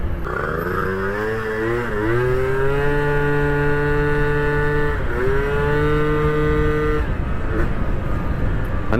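A Yamaha Aerox 50cc two-stroke scooter with an enlarged main jet revs loudly and steadily nearby, its engine note rising then holding in a low droning, moo-like tone for several seconds.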